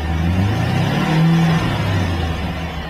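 A car engine revs steadily with a low rising and falling drone, close and continuous for the whole stretch, no voices over it.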